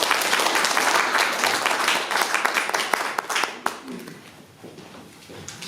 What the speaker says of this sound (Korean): 박수 보내주시기 바랍니다